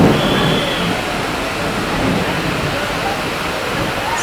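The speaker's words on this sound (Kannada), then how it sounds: "ಒಳ್ಳೆ ಮಳೆ ಬರ್ತಿದೆ ನೋಡಿ." Steady, dense rain drums outside an express train on a night run from Bengaluru to Hospet, a continuous rushing wash with no breaks, fairly loud and close throughout.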